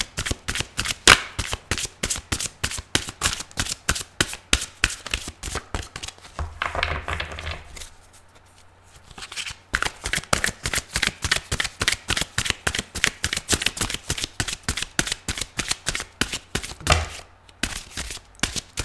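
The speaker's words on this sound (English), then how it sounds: "If you don't like the shuffling, please fast forward." Tarot cards shuffled over and over in fast riffling bursts, close and crisp, with a brief lull midway before the shuffling resumes.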